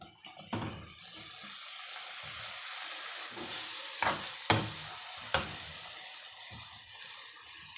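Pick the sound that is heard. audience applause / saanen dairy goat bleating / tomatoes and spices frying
tomatoes and spices frying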